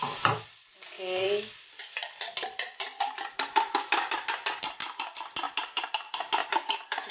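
Eggs being scrambled in a pan with a little butter and oil, a steady run of rhythmic stirring scrapes over a soft sizzle, close and clear, with a brief voice near the start.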